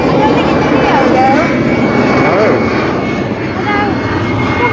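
An easyJet Airbus A320 jet flies overhead with a loud, steady engine roar while people talk over it throughout.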